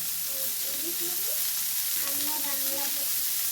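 Grated ginger fried in oil alongside vegetables for a paneer curry sizzles loudly and continuously at close range, while a faint voice murmurs in the background.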